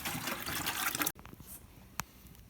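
Tap water pours steadily into a container for descaling an instant hot water heater, a loud rushing splash that stops abruptly, followed by faint drips and small clanks.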